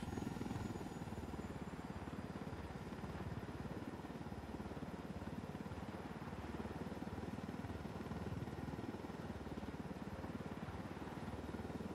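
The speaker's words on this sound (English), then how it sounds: "That UNIDAD helicopter is still there." A helicopter in the Ghost Recon Wildlands video game, a steady rumbling rotor drone that fills the whole stretch at constant loudness with no talking.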